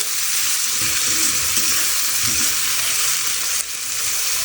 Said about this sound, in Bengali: দিয়ে দেবো পেঁয়াজ কুচি পেঁয়াজটা হালকা করে ভেজে নেব